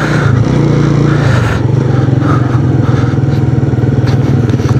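A motorcycle engine runs steadily and close by as the rider heads off again along a valley road on an autumn morning, with a constant loud low drone and slight fluctuations in pitch.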